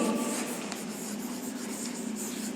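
Pen or marker scratching steadily across a writing surface during an English grammar lesson, a soft continuous rubbing with no speech.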